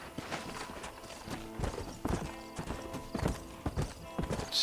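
Horse hooves clip-clop at a steady gallop in the Red Dead Redemption video game, a brisk rhythmic pounding heard close and alone, with a brief whinny near the end.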